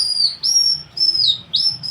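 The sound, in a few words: bird call lure imitating birds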